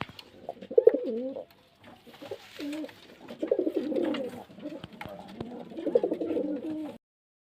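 Young pigeons cooing in repeated soft, throaty bursts with short pauses between, fairly close, with light rustling in the background.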